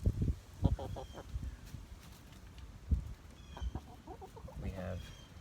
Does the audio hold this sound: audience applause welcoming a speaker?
no